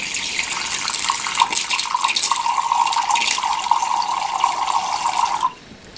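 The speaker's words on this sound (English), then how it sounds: "here's the water flow you get" Water runs from a hydration vest bladder through its bite valve, a steady hissing trickle that splashes continuously for about five seconds and then stops abruptly.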